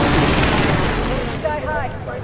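Gunfire rattles in Call of Duty: Modern Warfare during a quads match, loud bursts for the first second, then fading as a voice and other game sounds take over.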